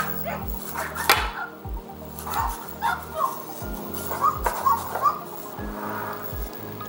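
A Hengbot Sirius AI robot dog gives a run of synthetic, electronic barks in uneven bursts. The barks come close and fairly loud over a low, pulsing mechanical background.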